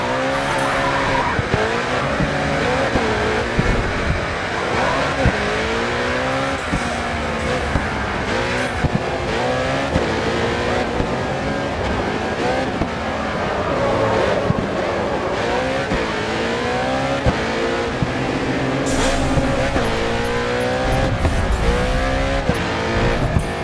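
Race cars roar through a racing video game, engines whining and shifting while tires squeal through tight corners, a dense continuous wall of loud engine and skid noise with no voices.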